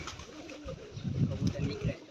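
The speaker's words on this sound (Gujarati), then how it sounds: "જોઈ લો આ બધા આપણા કબૂતર નીકળી ગયા" Pigeons coo and rustle in low, throaty bursts that grow busier toward the end, with a soft murmur of background noise.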